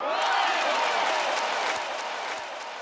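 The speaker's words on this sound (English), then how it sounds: "I just have this crowd sample. I think it's from Wii Sports" A crowd cheering sample from the video game Wii Sports: a dense, hissing wash of applause and crowd noise, loud and continuous, fading slightly toward the end.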